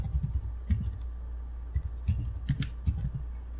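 Keys on a computer keyboard click in short irregular bursts as a word is typed into an Excel search, close and crisp with brief pauses between strokes.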